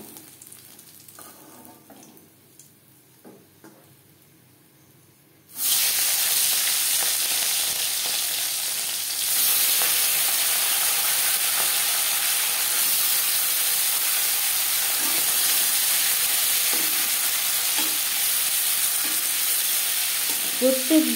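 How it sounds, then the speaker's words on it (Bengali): Small tangra fish fry crisp in hot oil in a kadai. A quiet stretch gives way to a sudden loud, steady sizzle with bubbling hiss and occasional stirring clinks. "প্রত্যেক ব্যাচের মাছ একইভাবে ভেজে নেব।"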